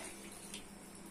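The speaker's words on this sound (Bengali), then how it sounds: "দিচ্ছি জল।" Water poured into a pot of simmering lentil, potato and mango curry, a steady, close splashing hiss that runs the whole second without a break.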